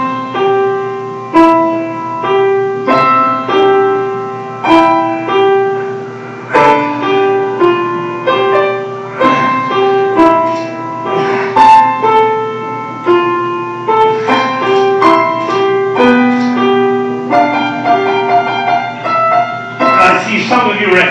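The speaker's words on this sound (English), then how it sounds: "what a seven-year-old child sounds like when he plays the piano" A seven-year-old child plays the piano, simple separate notes and short phrases at a halting pace, clear and close, with no voices over the playing.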